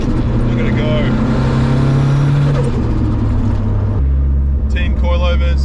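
A 660HP Nissan 180sx with a 2.35L Tomei billet stroker engine drives past, its loud engine note holding a strong steady tone then dropping in pitch as it shifts, heard under a voice.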